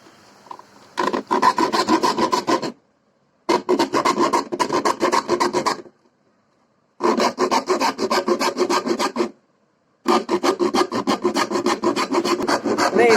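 A handmade wooden water scoop for bailing fish ponds is being cut with a design, giving loud, close rhythmic rasping strokes in four long bursts separated by short silent pauses.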